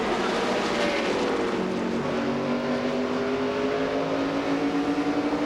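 NASCAR Craftsman trucks racing at Indianapolis, a pack of engines droning past at steady high revs with rising and falling pitch, continuous and moderately distant with no talk.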